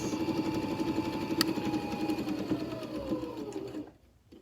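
A sewing machine stitches fabric pieces together for a microwaveable bowl cozy, a steady, close, rapid mechanical hum that runs continuously, then slows and stops near the end.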